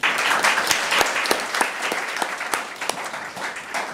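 An audience at an international conference on peace on the Korean peninsula claps to welcome a speaker, with crisp individual claps standing out against a full, sustained wash of applause.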